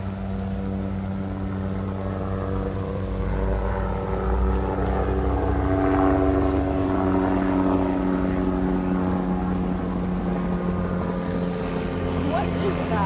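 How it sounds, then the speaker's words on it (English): A one-person ultralight helicopter passes overhead with a steady, loud engine drone and low rotor thrum that holds for the whole stretch, peaking near the middle, while people talk beneath it. "An ultralight helicopter."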